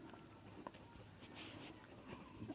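Pen writing out a maths solution on paper, continuous close scratchy strokes with short pauses between words, quiet and steady with faint breathing in the background.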